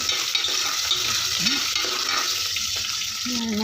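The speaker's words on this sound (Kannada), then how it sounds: "ಈರುಳ್ಳಿ ಕರ್ದ ಶೇಂಗಾ ಬೀಜ ಹಾಕ್ತೀನಿ" Onion and peanuts fry in a pan for a simple chitranna rice dish, producing a steady dense sizzle close up, with faint tonal clinks rising over it.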